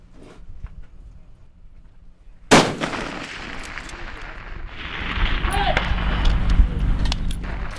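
A single loud sniper rifle shot cracks out at an international sniper contest, followed by a long echoing rumble, with faint voices and outdoor noise before and after it.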